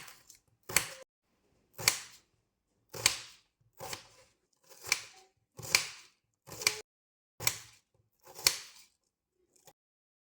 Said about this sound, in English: I'm going to cut onion into half.